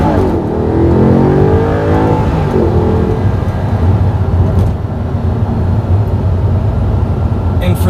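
Stock V8 car with Quattro all-wheel drive, revving to 8,000 rpm, loud close engine rising in pitch through acceleration then holding a rough, throaty drone.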